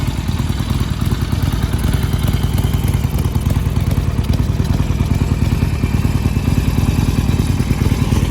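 Stock 2020 Harley-Davidson Iron 1200 Sportster XL1200NS engine idling, a steady low, lumpy rumble with fast mechanical pulsing, close and continuous with no talk.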